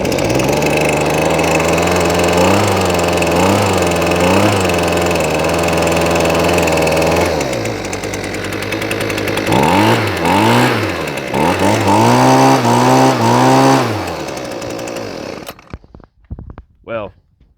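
A Husqvarna leaf blower fitted with an aftermarket carburetor runs loud and close, its two-stroke engine droning steadily, then rising and falling in several revs before it sputters and cuts out into silence.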